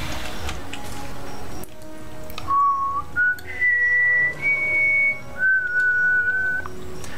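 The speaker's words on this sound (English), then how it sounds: "I know I'm whistling into a microphone again." A person whistles a melodic tune close to a microphone, sustained notes that step upward then settle, heard alone over a low background hum during a Guild Wars 2 game session.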